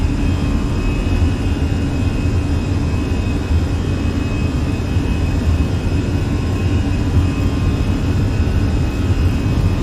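Airbus A320 jet engines spooling up for takeoff in a flight simulator, a steady loud broadband roar with deep low rumble holding constant throughout, no voices.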